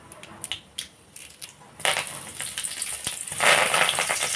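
Chana dal and coriander stalks frying in hot oil, a sizzle that starts with sparse pops and crackles, then swells into a louder, denser, steady hiss as the stalks hit the pan.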